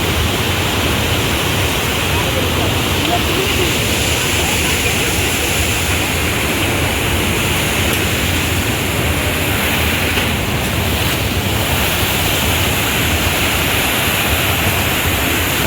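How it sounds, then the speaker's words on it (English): A fast-flowing mountain river and waterfall on the Kedarnath trek pour as a loud, steady, unbroken roar of rushing water close by, filling the whole scene without pause. "water of the river is also flowing so hard and so fast"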